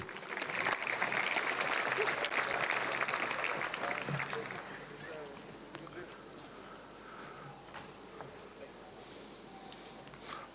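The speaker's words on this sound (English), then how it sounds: "Okay, last round of applause for them" Sustained clapping from an audience at a high school rugby capping ceremony, loud and dense for about four seconds before thinning into scattered claps and murmuring crowd noise.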